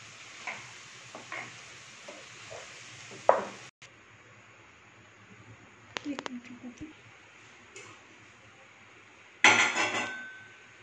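Cooked malai soya chaap being plated: sparse clinks and scrapes of a utensil against a dish, a sharp clatter midway and a louder ringing knock near the end, separated by quiet pauses.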